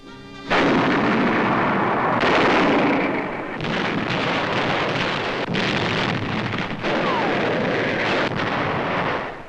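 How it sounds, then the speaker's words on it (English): Heavy artillery fire from the US 5th Marine Division shelling Japanese gun emplacements on Mount Suribachi, Iwo Jima, 1945: dense, loud, continuous booming and rumbling with repeated blasts, in an old restored newsreel recording. "the 5th United States Marine Division fires on Japanese gun emplacements studding the mountain"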